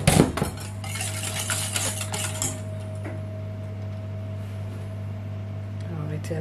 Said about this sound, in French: Donc après, on va mélanger le sucre.